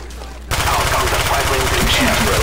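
Rapid automatic gunfire in the video game Black Ops, a loud, close, continuous burst that starts abruptly and runs without pause.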